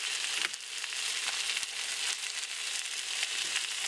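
Chicken sears in a pan for a low-carb Thai ginger chicken soup, giving a steady, close, even sizzle with faint crackles that runs unbroken the whole time, with no talking.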